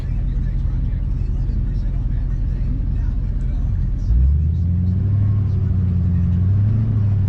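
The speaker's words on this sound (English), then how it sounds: "Actually, I'm gonna put it in four-wheel drive." A truck's engine, shifted into four-wheel drive on a wet, slippery road, rumbles steadily up close, then its note rises and strains partway through as the revving builds and holds.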